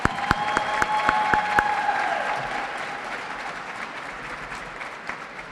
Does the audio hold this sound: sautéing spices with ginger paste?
no